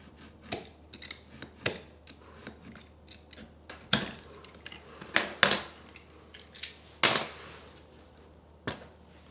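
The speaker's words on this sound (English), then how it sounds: "let's try the old Stanley knife trick then" A Stanley knife scoring and snapping an SPC vinyl flooring plank, a series of sharp close cuts and cracks spaced irregularly with quieter scraping between them.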